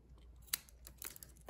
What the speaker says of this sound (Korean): 잘 드는 가위로 해야 될 것 같아요. 뾰족뾰족 나오는 것만 잘라주세요